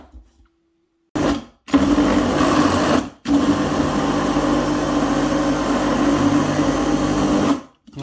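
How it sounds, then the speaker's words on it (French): A blender mixes bananas and yogurt for sugar-free ice cream. The motor whirs loudly and steadily in two runs, split by a brief pause, close up with no talking. "on va mixer tout ça."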